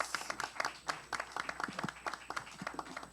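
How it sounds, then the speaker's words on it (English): Audience gives a round of applause after a presentation at a business event, a fairly quiet, thin patter of scattered hand claps that comes in uneven bursts, as from a small crowd. "another round of applause"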